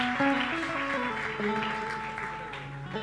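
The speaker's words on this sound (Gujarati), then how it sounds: "એકવાર જોરદાર તાળીથી બધાને વધાવો." Audience applause at a Swaminarayan religious gathering of Kutchi Patel devotees, a sustained wash of clapping mixed with a speaker's voice and sustained musical tones.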